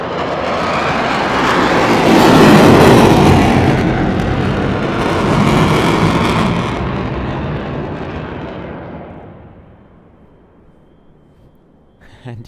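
A Tiger Demo Team F-16 fighter jet roars past during an aggressive airshow display at Leszno, a loud broadband rumble that swells, peaks, then slowly fades into the distance before a faint sound returns at the end.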